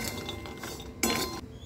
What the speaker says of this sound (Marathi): कढई खूप गरम झालेली आहे, त्याच्यामुळे कंटिन्युअसली असं हलवायचं आहे